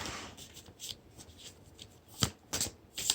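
Tarot cards are shuffled by hand in soft, quick riffling bursts, followed by a few sharper slaps and flicks near the end.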